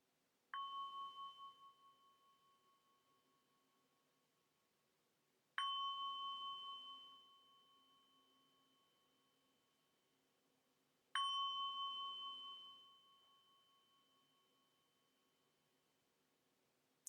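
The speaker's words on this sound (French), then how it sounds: "nous allons écouter 3 sons de cloche" A meditation bell struck three times at slow, even intervals, each strike a clear ringing tone that decays gradually into silence before the next, close and alone.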